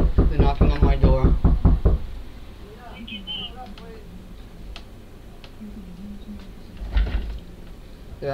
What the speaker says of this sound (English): They're knocking on my door.